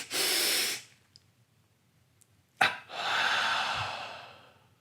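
Two sharp breaths drawn in, then a long forceful exhale, followed by a quick double intake and another extended breath out, close and with no talking.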